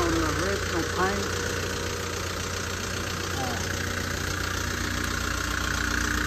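A 2005 Caterpillar 277B compact track loader idles steadily, giving a continuous low, rumbling engine drone throughout, with faint voices in the background.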